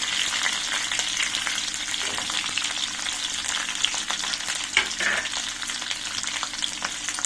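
Onions and capsicum fry in a hot pan for gobi chilli, a steady dense sizzle with occasional stirring scrapes, close and continuous with no talk.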